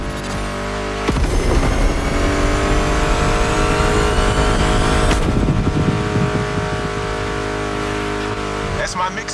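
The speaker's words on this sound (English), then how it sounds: "Meshes well with the sound of the engines, you feel me?" Car engines roaring in the racing game The Crew Motorfest, a loud continuous drone of revving motors with shifting pitch and a sharp surge about a second in, with music and a voice running under it.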